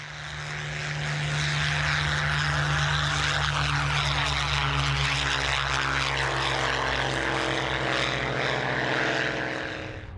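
A Supermarine Spitfire's propeller engine drones steadily and loudly, a sustained low throbbing roar holding for about ten seconds with no voices.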